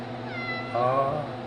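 A cat gives a short, close meow, a rising then falling wavering cry that ends after about a second, heard over a low background hum.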